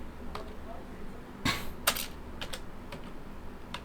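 Quiet, steady typing on a computer keyboard, a scattered run of light key clicks with a few sharper taps, heard close against faint room hiss.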